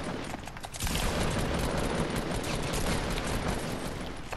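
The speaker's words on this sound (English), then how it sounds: "I missed every single shot then" Sustained rapid gunfire from a Fortnite match, a dense unbroken burst of shots that swells after a brief quieter start and holds loud to the end.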